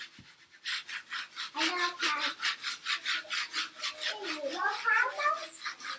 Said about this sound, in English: then take my scraper and scrape on